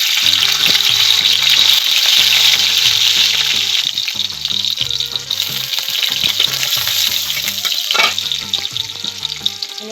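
Garlic fries in a pan for a Bengali taro-leaf and shrimp dish, a loud, dense sizzle that runs without a break while the pan is stirred, with soft knocks under the crackle.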